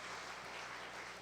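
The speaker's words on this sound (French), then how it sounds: "l'église de manière spéciale voulait applaudir les visiteurs" A church congregation at a Sunday service applauds visiting guests in a brief, faint, even wash of clapping from a room full of people.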